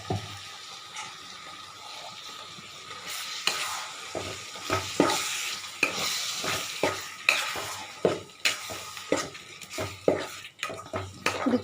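Ground masala for brinjal kurma frying in oil in a pan, with a steady sizzle and repeated close scraping strokes of a spoon stirring, growing more rhythmic toward the end.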